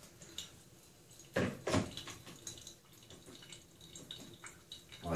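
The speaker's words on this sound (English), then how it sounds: "wet my filters, and then as they're kind of draining, warm my cup" Water trickles and drips as it drains through freshly wetted coffee filters during pour-over brewing, with a few louder splashy bursts near the start amid quiet continuous dribbling, close by and moderately soft.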